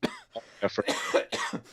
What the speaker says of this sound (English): I got a little bit of a cough myself